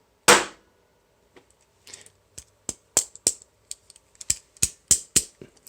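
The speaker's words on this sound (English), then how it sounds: "Actually dropping it on the table, you'll hear the springs." A sharp metallic clatter as a balisong knife hits a table, followed by a string of quick light clicks and rattles from its springs, close and with no talking.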